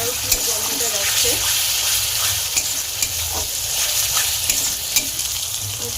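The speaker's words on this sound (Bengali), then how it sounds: "আবারও বেশ কিছুক্ষণ নাড়তে থাকবো যতক্ষণ না আদা রসুনের গন্ধটা যাচ্ছে।" Ginger-garlic-chili paste fries in a pan for chana masala and is stirred steadily, giving a constant close sizzle with a faint background voice, light scraping and periodic sharper clicks.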